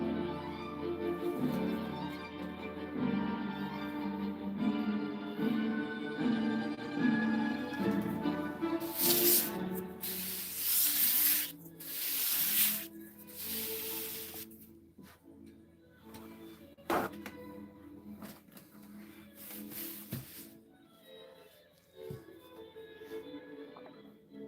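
Airbrush used for painting Warhammer miniatures gives several short hissing bursts of spray in the middle section, between quieter stretches of tonal background sound and small ticking handling noises.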